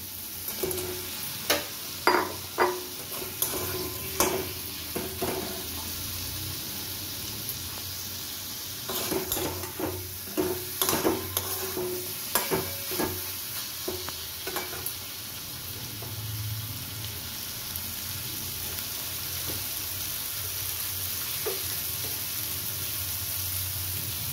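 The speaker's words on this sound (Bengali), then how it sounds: "আমি এবার এর মধ্যে পার্শে মাছগুলো দিয়ে দিচ্ছি।" Parshe fish cook in a mustard-tomato gravy in a pan, a steady low sizzle under repeated scraping and knocking of a stirring utensil in bursts, then quieter frying alone toward the end, close, no talking.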